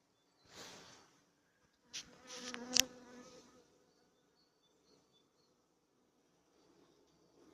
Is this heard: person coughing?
no